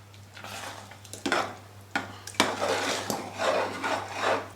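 A spoon scrapes and knocks against a metal pressure cooker pot while vegetable curry with crumbled muthiya is stirred, several rough rubbing strokes and clinks over a low steady hum.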